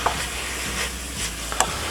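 Ground beef fries in a pan with a steady sizzle and hiss, broken by a few scraping stirs as the meat is broken up.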